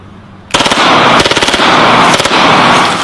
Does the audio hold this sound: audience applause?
no